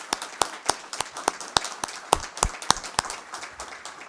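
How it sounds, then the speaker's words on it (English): A small group in a community board meeting room claps for the people serving the community: sharp, separate handclaps in a loose, uneven rhythm, moderately close, with no talking. "I want one more round of applause for the people sitting in this room serving our community"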